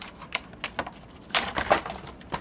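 Scissors snip through cheap parchment for a violin project in a handful of short, crisp cuts, spaced irregularly with a brief denser cluster partway through, close and fairly quiet.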